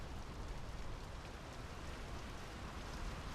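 Steady rain in the Draugen video game, a dense unbroken hiss of falling drops that stays fairly faint throughout with no voices.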